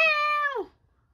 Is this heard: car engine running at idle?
no